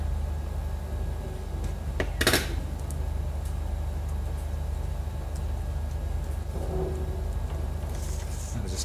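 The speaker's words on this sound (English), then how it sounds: "we stripped our wire out of our network cable" A network cable's plastic jacket is torn away to free the wires inside, giving one short, sharp ripping burst against a steady low room hum, with quiet before and after.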